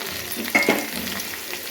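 Onions, green chillies, curry leaves and tomato sautéing in oil in a pan for a spicy fish curry, a steady close sizzle with a brief louder stir-scrape partway through.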